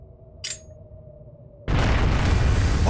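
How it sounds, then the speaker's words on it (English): A bomb goes off in the video game The Legend of Heroes: Trails of Cold Steel, a sudden loud blast after a quiet hum that swells into a sustained, roaring rumble. "What? A bomb?"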